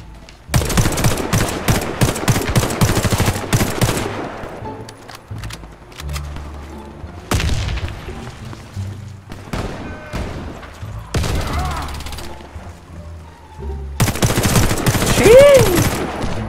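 Loud bursts of H&K MP5 submachine-gun fire in the shooter game Warface, rapid rattling volleys separated by short pauses, plus scattered single shots and background battle noise.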